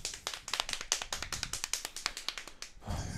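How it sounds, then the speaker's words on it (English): A few people clapping by hand in a small room, a quick run of sharp, close, irregular claps that ends in a short rustle. "Hand clapping, everybody."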